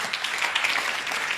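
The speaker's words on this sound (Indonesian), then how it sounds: "Nah, tepuk tangan dulu untuk kalian semua." An audience at a sales training session claps in a brief, dense burst of applause, steady and fairly loud throughout.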